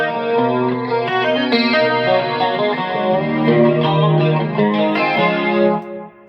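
Bright electric guitar tapping, run through chorus, distortion and other effects, with rapid dense harmonic runs sustained loud and steady before cutting off at the end.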